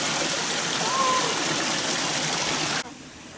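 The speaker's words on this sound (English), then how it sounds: "As we're near the waterfall, the water is slowing down" Steady rushing water from a stream running toward a waterfall, a broad even wash that cuts abruptly quieter near the end.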